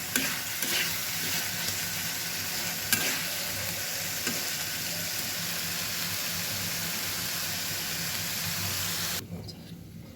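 Pabda fish sizzling and frying in a pan with tomatoes, a steady loud crackle and hiss that continues for about nine seconds before cutting off abruptly.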